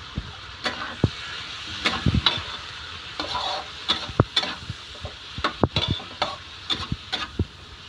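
Meat sizzles in a hot pan while being stirred, with a continuous frying hiss broken by repeated scraping and clinking strokes of the utensil against the pan.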